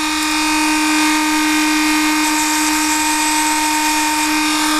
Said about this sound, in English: I'm going to drill this out down on the bench